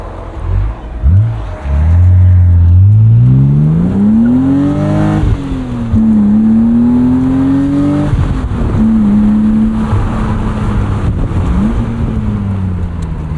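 A 1999 BMW Z3 M Roadster engine revs hard, rising sharply in pitch then holding high through repeated climbs and brief dips, loud and close with no talk.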